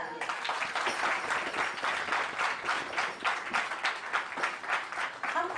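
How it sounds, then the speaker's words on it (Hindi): A gathering at a prayer meeting breaks into steady, enthusiastic applause for a team, many hands clapping in a continuous, fairly distant-sounding wash that holds evenly throughout. "इनके लिए भी जोरदार तालियां।"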